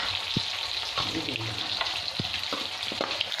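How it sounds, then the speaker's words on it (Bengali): Eggs fry in hot oil for egg biryani with a steady, close sizzle. Occasional sharp pops and clinks of stirring break through it. "ডিমটা এখানে ভাজা হয়ে গেছে"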